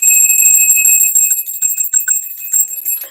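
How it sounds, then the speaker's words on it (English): A solar plexus bell struck to clear energy rings out loud and close, its bright, sustained metallic tone slowly fading over a few seconds with no voices present. "That's also the solar plexus bell."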